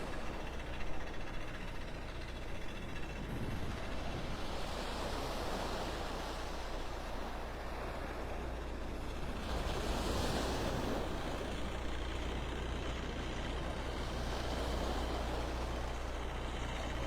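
Surf rolling onto a mile-long beach at Delnor-Wiggins in North Naples, Florida, a continuous broad wash of waves with gentle swells in loudness and no talk.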